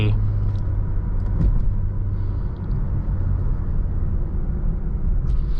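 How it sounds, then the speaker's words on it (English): Steady low cabin rumble of a 2020 Mazda CX-9 driving in sport mode with the transmission holding gears, a continuous engine and road drone with little change in pitch throughout. "I am in sport mode, that's why the transmission is kind of holding the gears"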